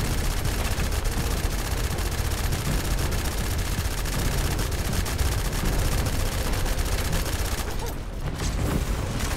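Near-constant rapid automatic gunfire during a boss fight in the shooter The First Descendant, dense sharp shots pounding for most of the stretch with a brief lull near the end and little talk.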